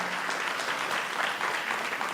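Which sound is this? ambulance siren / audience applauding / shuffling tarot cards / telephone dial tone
audience applauding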